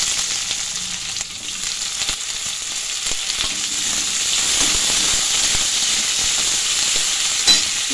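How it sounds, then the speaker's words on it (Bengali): Chopped onions and garlic fry lightly in oil, a steady close sizzle with soft crackles and an occasional stir, with no talking. "বেশি ভাজবো না, হালকা করে একটু ভেজে নিচ্ছি পেঁয়াজগুলো"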